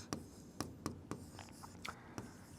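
Equations being written by hand on paper: a quiet series of short pen scratches and strokes in an uneven rhythm, close by, with no talking.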